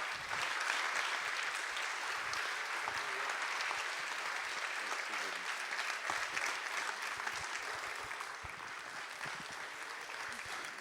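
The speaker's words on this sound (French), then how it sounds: "je vous demande d'applaudir" A festival audience gives a long round of dense, even applause for composer Laurent Couson, many hands clapping steadily that tapers slightly near the end.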